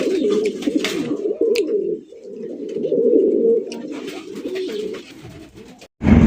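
Satin pigeons coo in low, throaty, rolling phrases close by, repeating over several seconds with brief pauses and a faint rustle.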